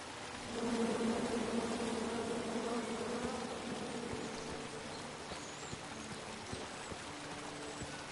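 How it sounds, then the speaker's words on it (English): An angry swarm of bees buzzes steadily and close in the King's Quest video game after a tree full of bees is chopped down, with a dense drone lasting throughout. "Come at me, bees!"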